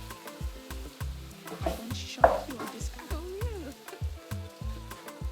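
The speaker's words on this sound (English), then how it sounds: "So while that is frying," Food fries in a pan during a Nigerian home cooking session, a low sizzle under repeated stirring and scraping of a utensil against the pot, with brief talk.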